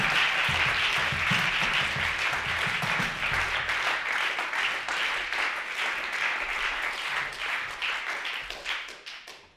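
An audience at a farewell concert applauds as the bassist is introduced, a dense, steady wash of many hands clapping close by that fades out at the end, with faint instrument notes underneath early on.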